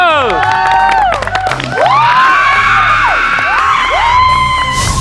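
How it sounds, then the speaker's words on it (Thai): A studio audience on the Thai sales competition show I AM CELEB cheers and whoops loudly, with shouting voices rising and falling over a dense crowd roar that fills the whole stretch. "ปรบมือ"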